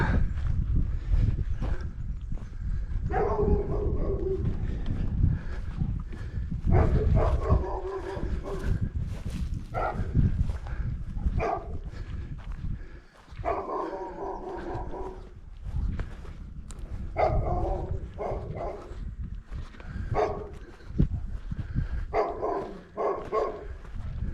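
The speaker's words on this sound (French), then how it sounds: "Un gros toutou qui nous fait bonjour." A big dog barks repeatedly in bursts along a walking trail in the Vallée de Cance, Ardèche, fairly close, with pauses between volleys over an outdoor background.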